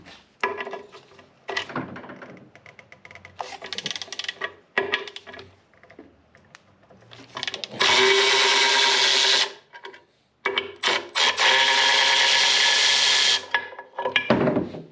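Two 12mm bolts are backed out of a car's transmission area, likely with a power tool: intermittent scraping and clicking handling noises, then two long loud whirring runs of a power driver spinning the bolts.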